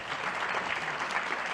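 Audience applause in a hall during a roundtable on border security, a steady wash of many hands clapping at moderate level, continuous throughout with no voices over it.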